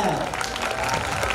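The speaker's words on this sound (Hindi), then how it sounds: "ओके ताली बजा दो" Applause from an audience at a dance talent contest, a brief steady burst of clapping close by, filling the whole moment without pause.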